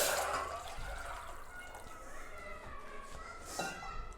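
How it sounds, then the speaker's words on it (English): Soup broth is poured from a container into a clean pot, a soft, quiet liquid pouring and trickling that gurgles and splashes unevenly for a few seconds. "So the broth which we got it, we're gonna add in the clean pot."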